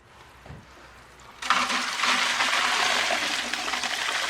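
Liquid poured off soaked biochar in a garden: after a quiet moment, a steady splashing gush of water starts abruptly and runs continuously to the end.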